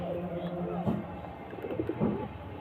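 Two pigeons landing nearby, with soft low cooing rising twice over a steady faint background hum.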